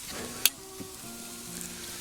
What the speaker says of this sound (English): I can hear it sizzling, so we're doing halfway decent.